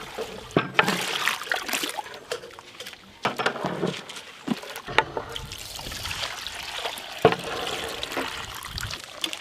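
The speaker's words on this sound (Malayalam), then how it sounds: "ചെറിയ ജീരകം വെള്ളത്തിൽ കലക്കി." Small cumin stirred into water is poured into a cooking pot, producing an irregular, close trickling and pattering of liquid with soft splashes over several seconds.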